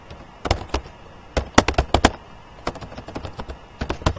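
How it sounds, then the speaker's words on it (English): Computer keyboard keys pressed in a spreadsheet demo, including shift plus spacebar: a series of crisp, close clicks and taps in irregular bursts, some keystrokes louder than others, with no talk over them. "And I press shift spacebar, it will be selected."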